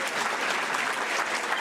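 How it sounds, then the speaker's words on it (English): Brief steady applause from a luncheon audience for a regional planning panel, dense even clapping throughout with no talk over it. "Let's give them another round of applause for taking their time out."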